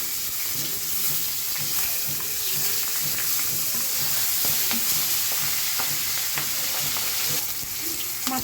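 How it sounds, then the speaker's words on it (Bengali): Hilsa fish heads coated in salt and turmeric fry gently in hot oil, giving a continuous close sizzle and crackle with occasional stirring clicks. "এখন মাথাগুলো ভেজে নিব"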